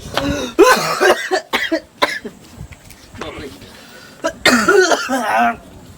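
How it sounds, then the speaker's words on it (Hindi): Someone speaks in bursts and breaks into several rough coughs and throat clearing, the coughs coming between and after his words, close to the listener. "खांसी भी होने लगा इतना बोलते हैं खांसी भी होने लगा"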